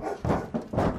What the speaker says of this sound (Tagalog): Galit na kumakahol ang aso